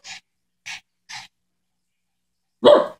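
A dog barks on command in three short, sharp yaps spaced about half a second apart, then a louder, rougher bark after a pause, close by and with no talk.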